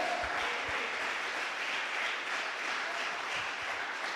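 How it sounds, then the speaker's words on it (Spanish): Church congregation applauding during a sermon, a continuous even stretch of clapping from a sizable crowd, moderately loud and without talk over it. "No sé si le das un aplauso"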